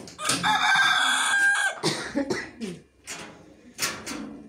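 A rooster crows loudly and close, a long drawn-out call followed by a few shorter clucks and throaty sounds, with no talk over it.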